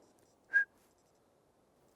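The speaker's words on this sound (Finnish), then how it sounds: "Varpuspöllö viheltää tolla tavalla." A single short clear whistle, like a Eurasian pygmy owl's call, sounds in a quiet forest, faint and somewhat distant, with a low background hush.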